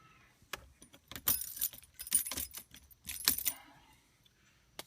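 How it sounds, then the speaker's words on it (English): Keys jangle and click as a car's ignition is switched off, a short close cluster of metallic rattles in a quiet interior, no talk. "All right, ignition off."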